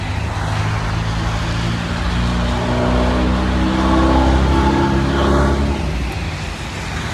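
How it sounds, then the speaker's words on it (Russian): Steady street traffic in Taraz, cars passing close by with a continuous low rumble that swells in the middle as a vehicle accelerates past, no voices over it. "из-за машин, наверное, плохо слышно"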